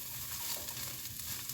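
Vegetables being stirred and heating in a pot of turkey barley soup, a steady faint sizzle and crackle with soft scraping, close by.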